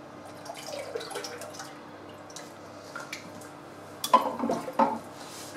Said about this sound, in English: So 600 millilitres of milk and cream mixed into a saucepan.